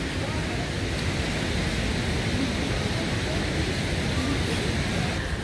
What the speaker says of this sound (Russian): Вот эта река, из которой течет водопад.